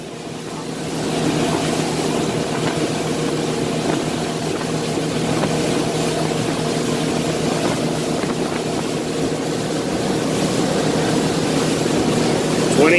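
A 2006 Polar motorboat with twin motors runs over waves at speed, a loud, steady engine drone with broadband water and wind rush throughout.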